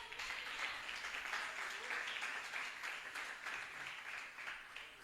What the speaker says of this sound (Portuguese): Quem pode aplaudir a Deus nessa noite?